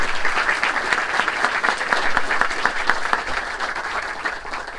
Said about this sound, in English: So please give them one final round of applause for now.